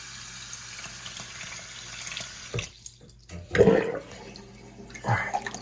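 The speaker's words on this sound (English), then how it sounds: "I gotta throw some hot water in there" Hot water runs steadily from a tap into a container, then stops and gives way to a few clunks and a brief splash.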